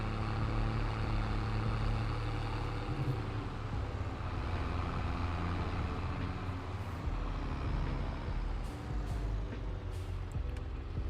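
A tractor engine runs in Farming Simulator 22 on the Greenlands map, a steady low droning rumble held loud and close for the full stretch with no talking over it.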